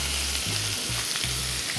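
A tadka of mustard seeds, jeera, peppercorns and ajwain sizzling loudly in hot oil, a dense close hiss broken by repeated scraping stirs of a spoon in the pan, with no voices.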